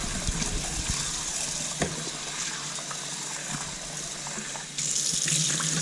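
Rinse water is poured off basmati rice, a steady splashing and trickling stream running throughout, close and moderately loud, with a brief surge near the end.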